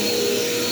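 A Dirt Devil Quick Power vacuum cleaner runs steadily at close range, a loud continuous motor whine with airflow hiss and no pauses.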